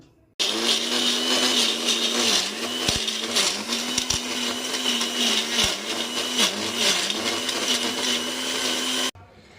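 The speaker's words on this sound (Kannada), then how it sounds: "ಕ್ಯಾರೆಟು, ಬಾದಾಮಿ, ಗೋಡಂಬಿ ಅವೆಲ್ಲ ಮಿಕ್ಸಿ ಮಾಡ್ಕೊಂಡಿದ್ದೀನಿ ಈ ಥರ." A kitchen mixer blends carrot, almond and cashew for juice, its loud motor whirring continuously for about nine seconds with slight dips in pitch, starting and stopping abruptly.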